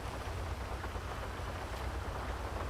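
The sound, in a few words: rain in the video game GTA Online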